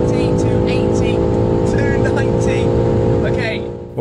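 A BMW M5 Manhart tuned to 700 horsepower accelerates at full throttle: a loud, sustained engine roar from inside the car that holds steady for about three and a half seconds and then briefly drops off at the end.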